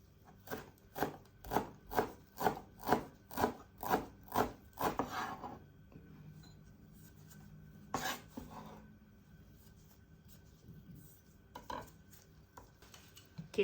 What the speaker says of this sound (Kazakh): Майдай тураймыз.